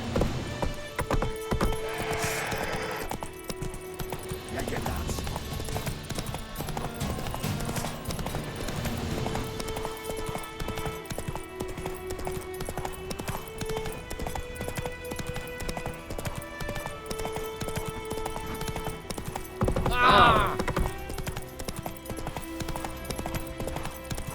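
Horse hooves gallop in The Witcher 3 video game, a continuous clip-clop rhythm running throughout at moderate level, with a brief louder burst near the end and little talk.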